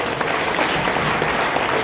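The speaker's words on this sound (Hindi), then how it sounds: "बार हमारे पैनलिस्ट के लिए जोरदार तालियां।" Loud, dense applause from an audience for panelists at a panel discussion, a continuous close wash of many hands clapping for a brief stretch.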